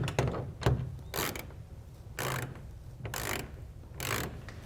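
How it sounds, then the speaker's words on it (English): A ratchet tightens the tensioner bolts on a soft roll-up tonneau cover, a few short bursts of rapid clicking separated by brief pauses, close and fairly quiet. "Remember those 2 bolts we left loose earlier on the tensioner? Well, now it's time to tighten them down."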